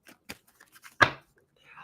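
A tarot card deck is shuffled during a reading: a few crisp, sparse card taps lead into one louder riffling snap, then a soft brushing slide, close and quiet.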